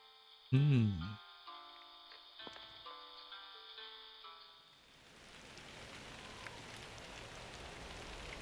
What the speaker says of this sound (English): Back into the rain, it seems.